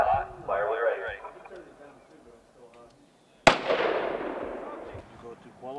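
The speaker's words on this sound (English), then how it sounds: "Firing line is hot. Fire when you're ready." A single sharp rifle shot cracks on a military weapons qualification zero range with M16 rifles, loud and close, following muffled radio chatter and range talk, with a voice continuing over the decaying echo.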